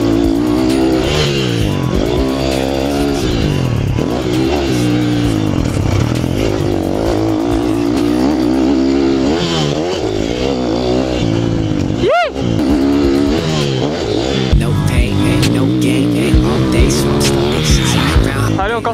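Motorcycle ridden continuously around a training ground, engine note rising and falling steadily through repeated laps, with tire and engine pitch sweeping up and down; a sharp brief dropout midway.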